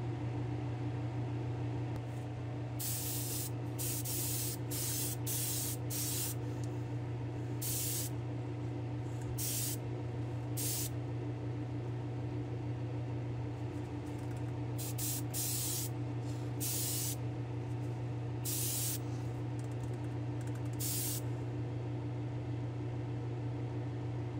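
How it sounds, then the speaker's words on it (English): Short hissing bursts from a spray gun dusting gold plating over orange paint on a car bumper, several sprays in two clusters over a steady low hum of a fan or compressor. "I'm going to come back and just dust our paint with a little bit of this gold plating"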